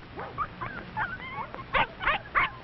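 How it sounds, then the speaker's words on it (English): A big red setter dog gives a string of short yips, whimpers and small barks, coming quicker and louder toward the end, at moderate volume with no talking. "A big red setter is running toward them."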